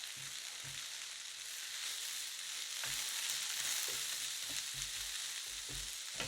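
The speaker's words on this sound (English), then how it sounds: "it's just got to cook for a minute to warm that corn up" Corn, onions and peppers with a little dressing sizzle steadily in a hot pan for elote dip, a constant bright frying hiss with occasional soft stirring scrapes and clunks, close and alone with no talk.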